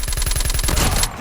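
A rapid burst of automatic gunfire in a ranked multiplayer shooter match, about a dozen quick, evenly spaced shots up close before a sharp cutoff.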